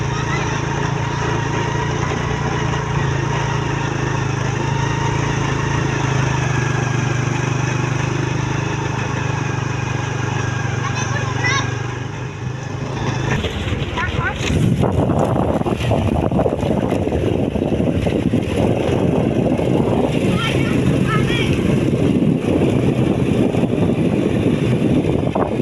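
A motorcycle engine drones steadily while riding, with a humming tone that gives way midway to rougher, louder wind and road rumble, continuous and close.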